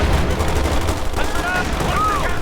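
Continuous battlefield gunfire from the video game Company of Heroes 2 rattles in dense machine-gun bursts with heavy rumbling underneath, while a player talks over the fighting.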